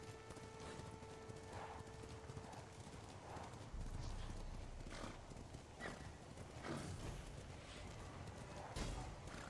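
A horse gallops in the video game Ghost of Tsushima, fast steady clip-clop hoofbeats with an occasional whinny over a low, faint background.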